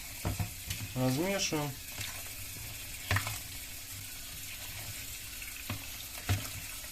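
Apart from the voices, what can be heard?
pouring cold water into cooked millet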